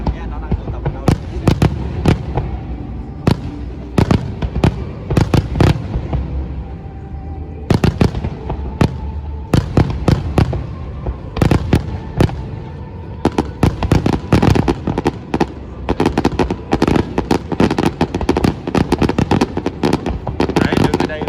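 Fireworks bursting at an Obon festival in Obihiro, Hokkaido, Japan: loud, rapid sharp cracks and booms arriving in dense clusters over a rumbling background, with crowd chatter underneath.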